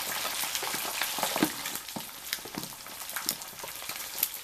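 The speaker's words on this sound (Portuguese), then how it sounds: "E aqui nós vamos girando ela para ela ir fritando." A large roll of pork belly (torresmo de rolo) frying in hot oil while being turned, a steady dense crackle and sizzle with sharper pops throughout, close and alone without speech.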